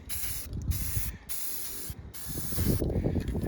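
Spray paint hisses onto a 1996 Chevy K1500 truck in a thin coat, laid down in several steady bursts separated by short pauses, loud and close with no talking.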